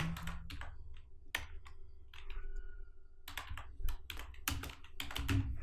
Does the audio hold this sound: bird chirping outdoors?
no